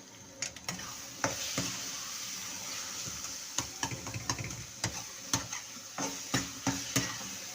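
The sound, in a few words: stirring and mixing gawar beans in a pan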